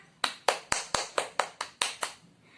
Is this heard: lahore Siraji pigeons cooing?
no